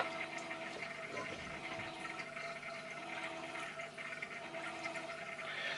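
An Aqua Medic EcoDrift 4.1 wave pump churns aquarium water, giving a steady broadband wash and sloshing with faint bubbling, fairly quiet and unbroken throughout.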